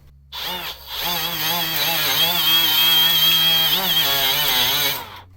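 A Ryobi 18V cordless die grinder spins up a cone wire brush, a loud high buzzing whir with wavering pitch that runs steadily for about four seconds before stopping.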